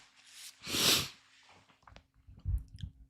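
A single sharp sneeze bursts out near the start, loud and close, followed by quieter shuffling and soft mouth noises.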